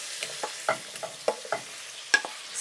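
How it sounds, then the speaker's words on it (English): Beef stir-fried in a wok, with light scattered clacks of a utensil against the pan over a faint sizzle, quiet and close with no talking. "Stir for 2 minutes."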